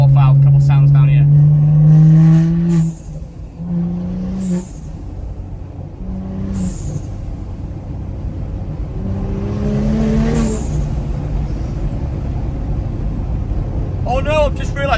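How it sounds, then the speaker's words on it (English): Turbo blow-off valve on a 430hp BMW M235i lets out several sharp whooshing hisses, each breaking through the steady engine drone and road noise inside the car. "Get one more blow off valve, couple sounds down here."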